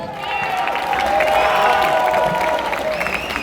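A crowd at a debate contest in an Islamic boarding school claps and cheers together for both teams, a sustained burst of applause with scattered voices rising over it.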